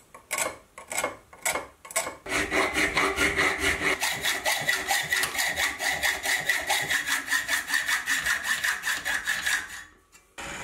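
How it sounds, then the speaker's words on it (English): A hand saw cuts through a piece of steel bar in a workshop, with a few slow trial strokes followed by a long run of fast, regular back-and-forth rasping strokes, close and loud. "I'll start off by cutting off a piece of steel bar."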